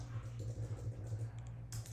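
Soft rapid keystrokes on a computer keyboard, a short quiet patter of typing over a low steady hum.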